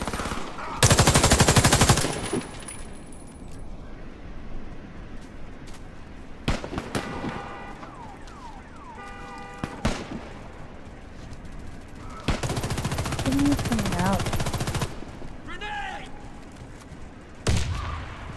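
Gunfire in the first-person shooter Warface on an airbase map: loud bursts of automatic fire, sharp single shots and several clustered volleys with gaps between them, mixed with game effects and occasional talk from players.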